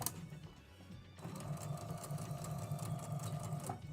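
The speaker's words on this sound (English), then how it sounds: "So we're just going to be sewing up all these blocks together today" A sewing machine joins quilt blocks, a steady rhythmic hum and needle patter starting after a brief pause and running on evenly, close and alone with no talking.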